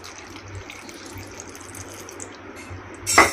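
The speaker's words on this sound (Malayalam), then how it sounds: "ഇനി നമുക്ക് ആവശ്യത്തിന് വെള്ളവും കൂടെ ചേർത്ത് കൊടുക്കാവേ" Water poured into a pot of Kerala-style ripe mango pulissery while it cooks, a short gushing splash near the end after a quiet stretch of low kitchen hum.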